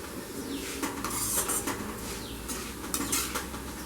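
Flattened rice (poha) frying in oil in a pan over a medium flame, stirred with a utensil that makes repeated metallic scrapes and clinks over a soft background sizzle.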